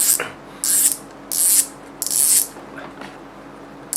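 A Shimano Twinpower 2000MgS spinning fishing reel clicking as it turns, with several sharp bursts of rapid ratcheting separated by short pauses, close and loud.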